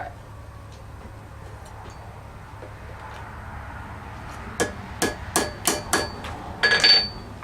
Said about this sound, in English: I'm gonna hammer it kind of flat on one end and thick on the other end